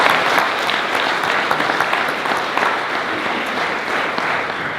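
A conference audience breaks into steady, loud applause that holds at an even level for several seconds, with no voices rising above the clapping.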